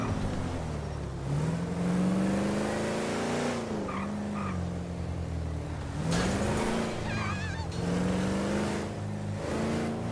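All-wheel-drive car driven in GTA 5 roleplay, its engine droning and revving up and down through gear changes, with brief tire skids and squeals, loud and close throughout.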